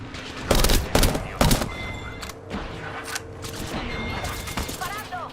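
Gunfire in a squad-based video game shooter: several loud bursts in the first two seconds, then a steadier mix of shots and game sounds with a voice talking faintly underneath.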